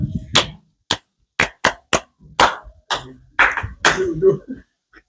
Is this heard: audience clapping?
yes